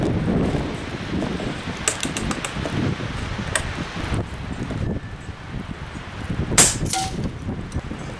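Several sharp, distant cracks of .22 caliber Cayman X air rifle shots at 64 yards ring out irregularly over steady wind noise and rustling, with a louder, closer report near the end.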